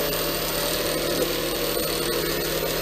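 A low-powered belt-driven lathe turning a cherry wood pen blank, giving a steady loud motor hum with a constant mechanical drone and no pauses.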